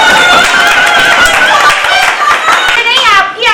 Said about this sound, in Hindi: इसलिए जोरदार ताली से स्वागत करें उनका।